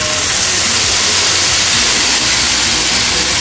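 Tomato puree hitting a pan of sautéed garlic for homemade pizza sauce, a loud, dense, continuous sizzle and hiss holding steady throughout with no talk over it.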